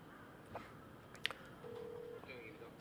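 A telephone call is dialed during a Korean horse-racing analysis broadcast. Brief faint tones are followed by a short steady ringback tone, all quiet under low background noise.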